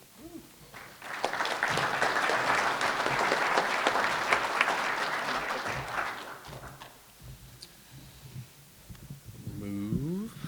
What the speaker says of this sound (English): one more big round of applause for all three of these guys